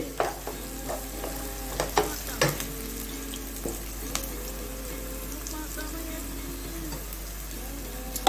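Onions sautéing in a pan for an Indian goat intestine gravy, a steady soft sizzle with occasional stirring scrapes and clinks, close and continuous, with no talk.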